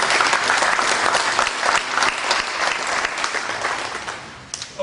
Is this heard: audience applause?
yes